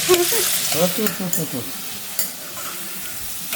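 Sliced onions sauté in a hot pan with a steady close sizzle, broken by scraping stirring strokes.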